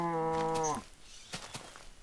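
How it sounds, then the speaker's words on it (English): A cow in the video game Minecraft gives one loud, drawn-out moo lasting under a second, followed by quieter background game noise. "Shut up, you cow."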